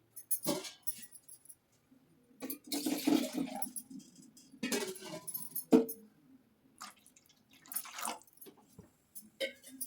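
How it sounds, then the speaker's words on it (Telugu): Water is poured in bursts into a simmering snakehead fish curry, giving several splashing, gurgling pours separated by short quiet gaps. The sound is close and soft to moderate in level, with no speech. "ఇప్పుడు కావాలంటే ఇంకొంచెం వాటర్ కూడా యాడ్ చేసుకోవచ్చు."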